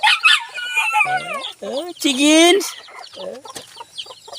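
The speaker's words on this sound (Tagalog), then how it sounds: "May chickens kami dito guys." Chickens and small chicks at close range, clucking and squawking in bursts with a loud crow in the middle, on a casual outing with a voice talking among them.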